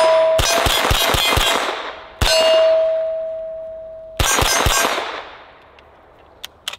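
A CZ Scorpion firing at steel targets outdoors, quick strings of sharp shots with loud ringing clangs and long metallic decay, three bursts then a couple of faint distant pings.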